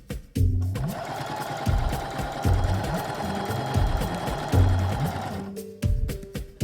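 A sewing machine stitches along a fabric fold in a backyard cabana project, running loud and close in steady bursts with short pauses between runs, and no talking over it.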